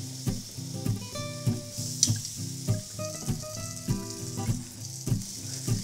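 Apple pieces grill in a hot pan for a fruit dessert, giving a steady close sizzle broken by soft pops and clicks, with no talking.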